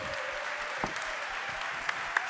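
A conference audience at a venues industry event breaks into dense, steady applause, a continuous wash of clapping with a couple of sharper individual claps.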